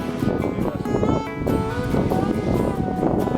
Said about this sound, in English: sorry about the wind, it's a little breezy out here.